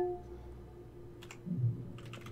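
Typewriter keys in Beholder 3 tap in two faint, sparse clusters of a few clicks each over a low steady room hum, with no talking.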